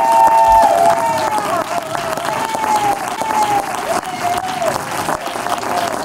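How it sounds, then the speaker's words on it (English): An audience applauds and cheers for a speaker at a talk, with a steady crowd clapping and a wavering whistle-like tone running over the top. "Huge round of applause for Tyler"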